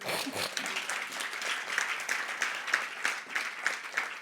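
A church congregation applauds loudly and continuously, a dense crowd of clapping hands with a few brighter individual claps standing out near the end.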